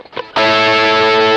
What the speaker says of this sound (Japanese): ディレイタイムはね360で若干疾走感があるような雰囲気ですかね